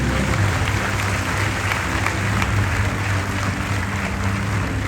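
Loud, steady applause from a large ceremony crowd honouring all-India toppers at a skill convocation, a dense continuous patter of clapping with no pauses across the whole stretch.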